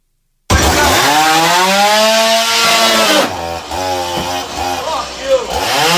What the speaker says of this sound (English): when he hit that with the chainsaw at first, that TV kept working